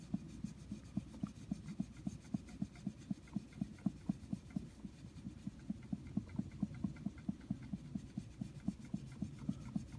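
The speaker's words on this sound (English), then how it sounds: "So first I'm going to use the eraser." An eraser rubbed across a silver bullion bar to lift milk spots, making a quick, regular scratchy rasp of short strokes repeated steadily throughout, close and fairly quiet, with no voices.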